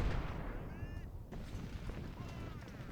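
Musket volleys from Civil War infantry in Ultimate General: Civil War crackle and thump at a distance, overlapping in a continuous rumble of battle ambience.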